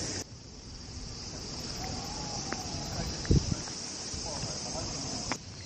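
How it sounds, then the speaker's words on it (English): Cicadas in Japan sing in a constant high, steady drone filling the background, with a brief thump and faint rustling in the foreground. "the sound that you're hearing is actually cicadas"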